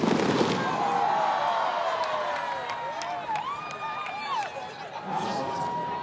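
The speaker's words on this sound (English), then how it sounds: "The first of what should be many fireworks here at Dell Diamond." Fireworks crackle and pop over a crowd at Dell Diamond ballpark during a live fitness competition event, with scattered bangs and whistles under an announcer speaking and cheering in the background.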